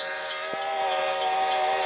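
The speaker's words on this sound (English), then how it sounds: "we got a train here, and this horn is actually creeping me out right now" A BNSF freight train passes while its horn sounds loud and sustained, close by, with rail rumble underneath.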